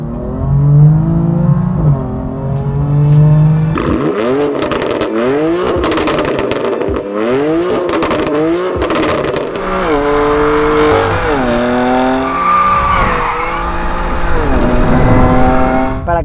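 A BMW M4 GTS accelerates hard and loud, its engine climbing through repeated rising revs with sharp gear changes, tires squealing, and a brief lower idle-like drone before the full-throttle run.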